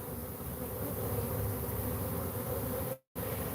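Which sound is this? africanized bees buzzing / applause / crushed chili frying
africanized bees buzzing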